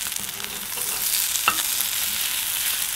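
Vegetarian couscous patties fry in a pan with a steady sizzle, broken by soft scraping clicks as a spoon turns them; no one talks.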